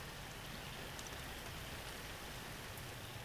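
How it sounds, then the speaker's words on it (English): Steady, even rain hisses continuously, a soft, dense patter with no breaks. "And here we are, sitting in the rain,"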